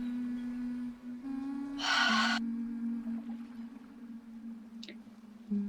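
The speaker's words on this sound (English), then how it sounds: "Now take a deep breath." A single deep breath drawn in during a guided EFT tapping session, a brief breathy rush lasting about half a second over a steady low humming drone that continues throughout.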